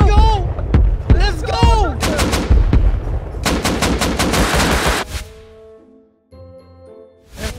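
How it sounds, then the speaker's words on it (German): Rocket explosions during a raid in the video game Rust, a rapid series of loud booming blasts with rattling debris, mixed with excited shouting players, fading to a quieter electronic tone before one more burst at the end. "Das war eine riesen Explosion."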